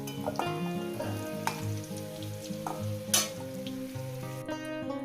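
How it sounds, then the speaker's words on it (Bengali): Potatoes sizzle and crackle steadily in hot oil in a wok, with occasional scraping clatters of stirring over the constant frying hiss. "আলুগুলো আমি কড়াই নিবি একদম কড়া কড়া হবে লাল করে নিবি"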